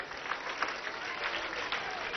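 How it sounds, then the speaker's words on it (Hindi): A brief, steady round of audience applause rises from a gathering at Acharyakulam school in Haridwar, a dense patter of many hands clapping at once. "चलो भाई इसके लिए भी ताली बजाओ जरा एक बार"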